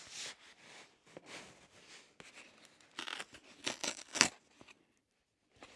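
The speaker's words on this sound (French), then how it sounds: "on va ouvrir le dernier colis" A parcel being cut open with scissors: a run of crisp snips and scraping tears, the loudest burst near the end, then a short silence, with no talk.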